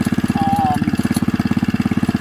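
A Wheel Horse RJ58 garden tractor's Kohler K91 single-cylinder engine, just fixed after a carburetor fault, runs close by with a loud, rapid, even chugging pulse.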